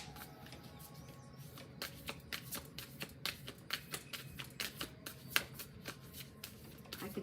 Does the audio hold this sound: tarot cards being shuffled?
yes